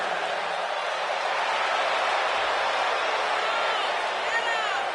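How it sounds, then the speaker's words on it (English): A crowd in the WWE 2K19 wrestling video game cheers as a wrestler makes her entrance, a steady, dense roar of voices that fills the whole stretch evenly without breaks. "And Michael, it sounds to me like this crowd already picked the one who they want to win this match."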